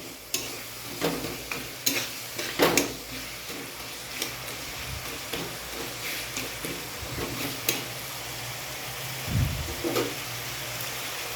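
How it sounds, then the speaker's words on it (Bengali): Chopped raw onion frying in a pan and being stirred, with scattered scraping clicks and soft sizzle, a louder scrape near the start and a low thump near the end, no talking. "এবার একটু নেড়ে চেড়ে নেব। পেঁয়াজটা একটু ফ্রাই করতে হবে।"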